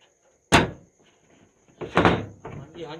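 A stuck door is pushed and rattled without opening, giving one sharp close bang followed by a cluster of knocking thuds, with people talking around it.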